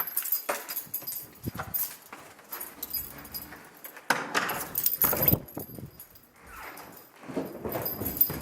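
A bunch of keys jangles and clinks in short irregular bursts, close by, among rustling and handling noises with no talking.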